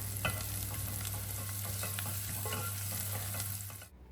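Sautéed onion with ginger garlic paste sizzles steadily in a pan while a spoon stirs it, with scattered scraping clicks over the constant frying hiss, close and loud, until it cuts off at the end.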